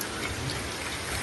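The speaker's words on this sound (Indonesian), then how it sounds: "Dan sementara ini cuacanya seperti ini, sedang hujan" Steady rain falling in a forest, a dense, even hiss of drops on leaves and ground that stays constant throughout with no voices.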